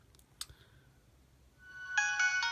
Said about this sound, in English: good old Nokia intro theme.